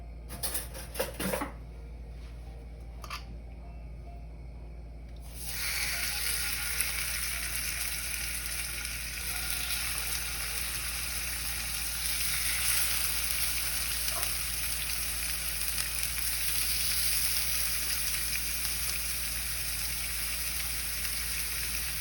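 Plain fish with no breading sizzles in a non-stick pan, a steady broadband frying hiss that swells after a few brief utensil clinks at the start and holds loud and continuous to the end.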